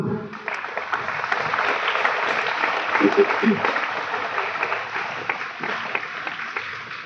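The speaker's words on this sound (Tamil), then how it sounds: "ஒரு பயங்கர ஒரு கரகோஷத்தை எழுப்புவோமா?" Audience at a Rotary Club interact club inauguration in Tirunelveli breaking into applause, a dense sustained clatter of many hands filling the room, with a few voices mixed in.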